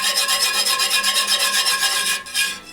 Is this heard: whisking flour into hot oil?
yes